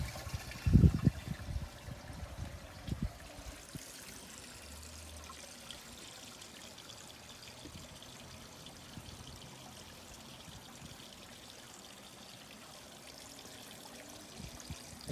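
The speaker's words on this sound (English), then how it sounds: "flowing in, filling up as it is, overflowing the first, second, and up it comes now halfway to third" Water running through a 2-inch pipe into koi pond filter barrels and spilling over from one barrel to the next, a soft steady trickle and pour after a brief clunk at the start, with no talk.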